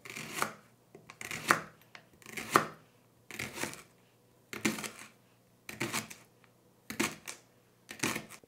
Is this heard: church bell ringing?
no